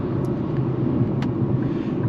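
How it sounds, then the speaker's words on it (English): Steady low road and tire roar inside a 2025 Nissan Kicks SR while driving, a continuous close rumble with no talk. "you do get a bit of tire noise, which I suppose is to be expected in a car of this class"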